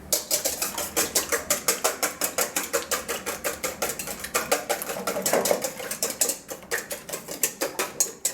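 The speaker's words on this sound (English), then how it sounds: "So we'll give it a whisk." A whisk beats rapidly against the side of a bowl as a tart filling is mixed, producing a fast, steady run of close metallic clicks and scrapes that carries on throughout with no voices.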